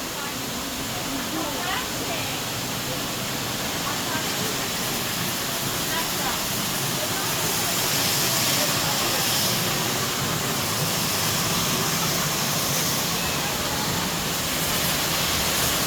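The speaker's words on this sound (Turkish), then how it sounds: "Aa şelaleye geldik." Düden Waterfall roars inside a cave as a loud, constant broadband rush of falling water that fills the space, with voices talking faintly beneath it.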